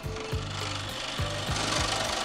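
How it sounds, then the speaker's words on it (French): A scroll saw buzzing rapidly through wood for a model RC biplane, a steady rasping vibration with a few rhythmic pulses, close and loud without any talking. "Encore un petit tour de scie à chantourner."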